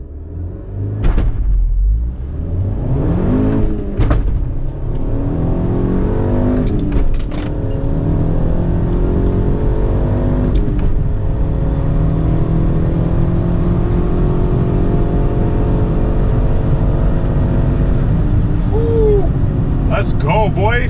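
An MK6 VW GTI with a Cobb Stage 1 tune and Stage 2 clutch launches and accelerates on a quarter-mile run, the engine droning and rising through gears under occasional clicks and rattles, with voices heard at points.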